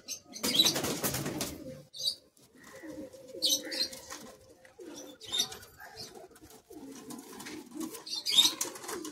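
A flock of high-flying Madrasi pigeons beats its wings in repeated bursts of flapping, mixed with soft coos nearby, with no one talking.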